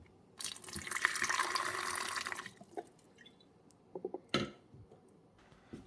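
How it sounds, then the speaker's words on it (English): Vinegar and water poured from a container into the reservoir of a Cuisinart Coffee Center 12-cup SS-15 coffeemaker, a steady close splashing stream for about two seconds, then a few small clunks and knocks. "So we're just going to dump the vinegar and the water right back here"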